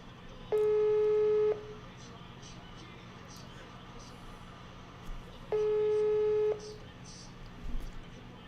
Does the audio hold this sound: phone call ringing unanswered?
yes